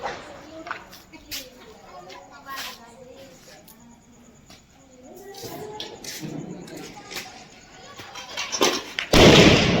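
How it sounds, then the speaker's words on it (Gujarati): Sharp firecracker bangs pop irregularly during Dev Diwali, some set off inside a metal bowl, several close and loud, with a big burst at the end, while people talk nearby. "આ લોકો અત્યારે બોમ્બ ફોડે તબકડાની અંદર"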